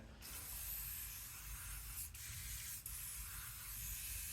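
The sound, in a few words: spraying lubricant from a spray can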